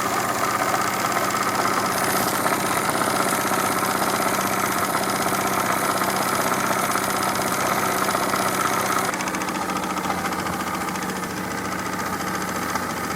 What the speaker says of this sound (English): It's not the fastest pump in the world, but it puts boiler feed in